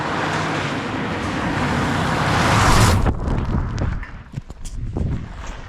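At the Oinopoja jump on WRC Rally Finland, a rally car roars past close by, its engine noise swelling to a loud peak before it drops away abruptly, leaving scattered thumps and crowd-side rustle.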